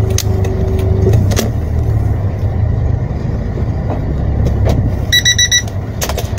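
A car backs up slowly on a street being resurfaced with asphalt, with a road roller nearby; steady low engine rumble fills the scene, broken by a few short electronic beeps near the end.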